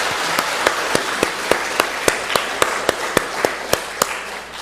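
A small church congregation at a Friday worship gathering claps in a slow, even rhythm, with about a dozen distinct claps standing out over a low room murmur.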